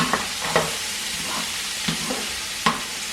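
Garlic and onion are stirred into bacon frying in a pan, with a steady hissing sizzle and several sharp scraping strokes of the utensil at irregular intervals, close up.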